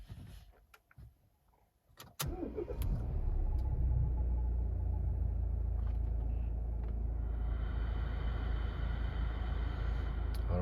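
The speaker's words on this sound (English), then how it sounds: "I've started the car now" A Volvo car is started: a few faint clicks and knocks, then the engine catches with a sudden rumble and settles into a steady, close idle that continues to the end.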